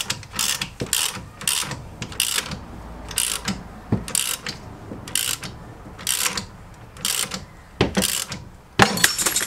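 A ratchet wrench with a 19 mm socket tightens the front axle subframe of a Peugeot 407, sounding as quick bursts of sharp metallic clicking that repeat in a steady rhythm, loud and close.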